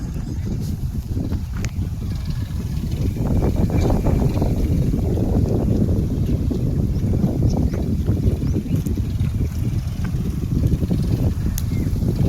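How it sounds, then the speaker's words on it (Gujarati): A tractor ploughing a field drones steadily close by, a low continuous rumble with wind buffeting the microphone throughout. "આ છે ટ્રેક્ટર ખેડે."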